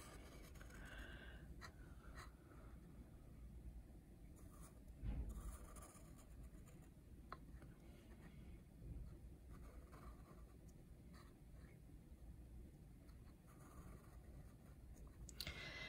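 A pencil drawing a horizontal line across paper gives a faint, steady scratching and rubbing that runs on quietly for a long stretch, with a few soft clicks and small bumps and no speech.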